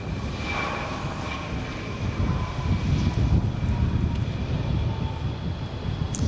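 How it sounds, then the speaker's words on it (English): An Embraer E175 regional jet of SkyWest takes off for Phoenix with a rotation early in its roll: a broad engine roar swelling over several seconds, heard from a distance through outdoor wind noise. "Another little E175 taking off"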